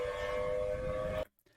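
A steady, loud siren wail holds one sustained tone, then cuts off abruptly, leaving near silence.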